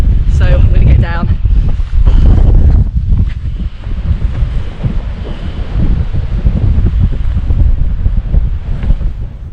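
Strong wind buffets the microphone with loud low rumbling gusts throughout on a hilltop hike at Derwent Edge, England, and a voice briefly speaks near the start.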